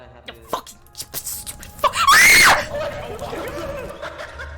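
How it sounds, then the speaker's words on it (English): A single sharp scream rises to a shrill peak and cuts off after about half a second, heard amid chatter and laughter, with people talking over the surrounding sound. "Let's hear that scream one more time."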